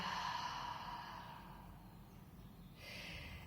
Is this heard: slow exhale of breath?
yes